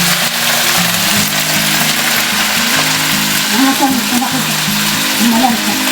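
Adobong kangkong stirred in a pan as it fries, a loud continuous sizzle with scraping stirs, while people talk over it.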